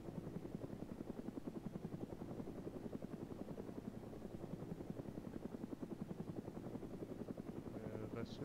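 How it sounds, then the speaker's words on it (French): An attack helicopter in ArmA 3 drones overhead with a steady, rapid rotor thump and low engine hum, constant and moderately distant, while voices talk briefly. "on a un hélico de combat dans ce coin-là"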